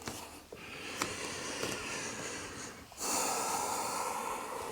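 A yoga practitioner exhales during a vinyasa flow, a soft airy breath heard close and steady, followed by a stronger, louder rush of out-breath near the end.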